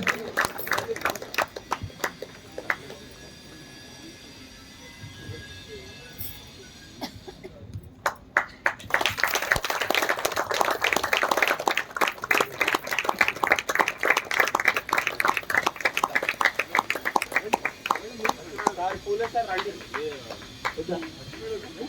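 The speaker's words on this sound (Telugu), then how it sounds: "సన్మానం చేయించుకునే వాళ్ళకన్నా చేసే వాళ్ళకి క్లాప్స్ కొడదామండి." An audience claps at a felicitation during the third anniversary celebration of the Jagadguru Patriji meditation hall in Pedda Amberpet. Dense applause swells midway and continues for several seconds, with a voice speaking over it.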